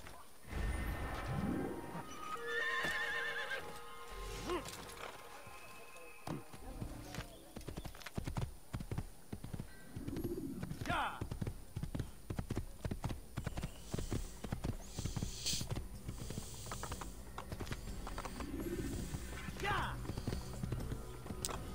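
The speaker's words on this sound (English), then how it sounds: "I know how to ride a horse" Rhythmic clip-clop of horse hooves in the video game Assassin's Creed continues throughout, with faint bird calls and people talking over it.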